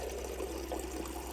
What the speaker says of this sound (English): That's a good stream of water.